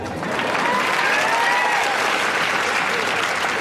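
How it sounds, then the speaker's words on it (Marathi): Loud, dense applause from an audience at a live competitive-exam guidance lecture, steady clapping that fills the whole stretch without letting up. "टाळ्या वाजल्या तर जोरातच वाजवायच्या"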